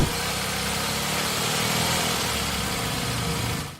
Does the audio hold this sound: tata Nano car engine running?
yes